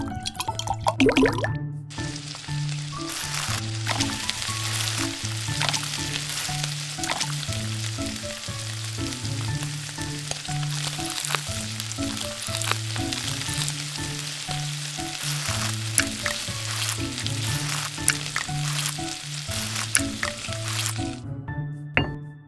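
Miniature food fries in a small pool of cooking oil, crackling and sizzling steadily with popping bursts throughout, close up, over a looping background melody.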